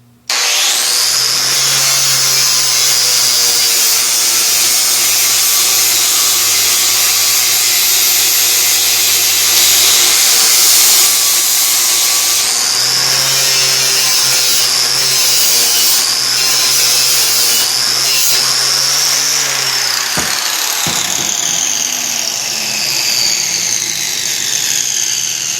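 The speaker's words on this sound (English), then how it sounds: "This is a flap wheel type arrangement here, so it's not quite as aggressive" A flap wheel grinder works down a cyclekart engine part during an engine install, a loud steady high whine with a droning motor hum that rises and falls as the tool is fed and eased off, briefly stopping near the end before resuming.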